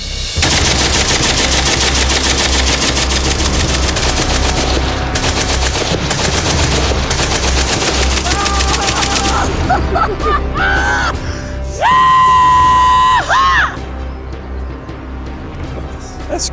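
A Vickers machine gun fires in long, loud sustained bursts of rapid automatic fire, with a dog barking and whimpering nearby toward the end.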